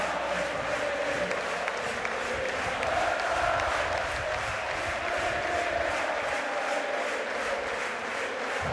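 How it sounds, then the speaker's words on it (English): A large crowd cheers and roars steadily throughout a beach volleyball match at the world championships in Vienna, forming a dense, continuous wall of noise with slight swells. "Fantastic support from the crowd."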